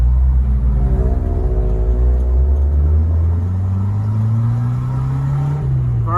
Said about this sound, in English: let's shift through the gears a little bit,